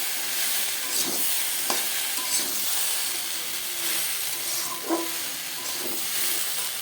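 Soybean curry sautés in a pan, a steady, fairly soft frying hiss with a few scattered clinks and scrapes of stirring and no one speaking.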